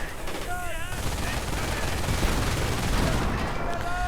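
Dense bursts of machine-gun and rifle fire rattle continuously at a building in a World War II strategy video game, with Panzer Grenadiers assaulting, layered over a steady battle rumble with occasional whistling effects.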